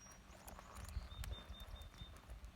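Hooves of a horse walking in a riding arena during a cloverleaf exercise, a series of irregular soft thuds and clops at a steady walking pace, fairly close but quiet.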